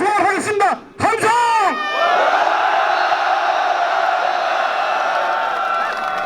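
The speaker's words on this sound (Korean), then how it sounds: "마지막으로 한 번 더 함성을 하겠습니다" At an outdoor press conference protesting the failed delay of the Serious Accidents Punishment Act for small workplaces, a voice calls out briefly, then a crowd answers with a loud, sustained collective shout lasting several seconds.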